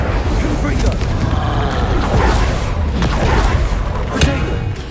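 A Confringo blast curse in Hogwarts Legacy erupts as a loud, dense fiery rumble with heavy booming thumps, sustained across the moment and overlapped by a voice speaking.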